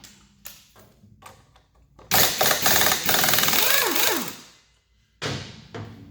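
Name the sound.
power tool zapping a nut off motorcycle front fork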